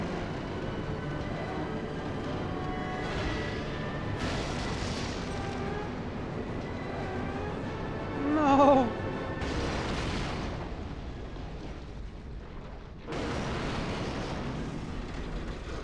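A train crashes in Resident Evil Zero, heard as a long, heavy rumbling roar with grinding metal, a sharp squeal in the middle and a brief lull before the rumble surges back.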